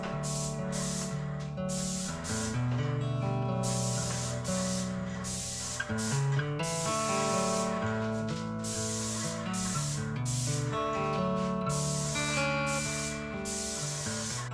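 A paint sprayer sprays paint in a cold shop, long bursts of steady hissing broken by short pauses, loud and close with no talking.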